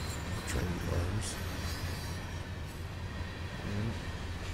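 Railway cars of a simulated train in Train Simulator 2017 roll steadily along the track, a continuous rumbling wheel noise with faint squeals, heard near and at an even level.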